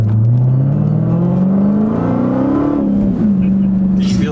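A straight-piped Dodge Hellcat accelerates hard down the road, its loud raw exhaust climbing steadily in pitch for a few seconds, easing briefly, then pulling again, with voices talking over the roar.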